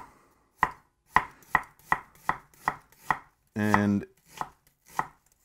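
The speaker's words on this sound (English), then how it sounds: "If you're looking for your strings of onion to stay together, cut it with the grain." A knife chops through onion with the grain on a cutting board, about a dozen sharp, evenly spaced strokes close up, with one brief hum or scrape partway through.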